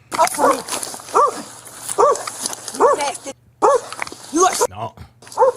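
A small dog yips and barks in short repeated bursts close by, mixed with people talking over it during a confrontation with police.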